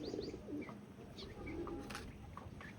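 Pigeons coo repeatedly in soft, low murmuring phrases, close by, with occasional faint chirps and a brief flutter.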